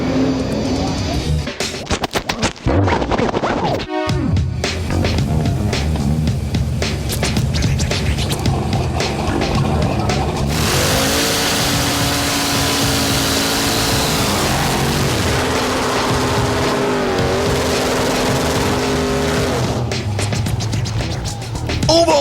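A 1981 Cadillac built for quarter-mile drag racing roars down the strip, its engine a loud, sustained rising howl after a brief pause, steady and close, with crowd and commentary noise underneath.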